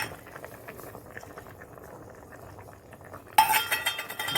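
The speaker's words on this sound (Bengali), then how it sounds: "চাপা দিয়ে দিই দেখো এটা ফুটে গেছে" Thin Rohu fish curry bubbles softly in a pot at a steady low simmer, then a sudden louder clatter of metal, like a lid or utensil, lands near the end.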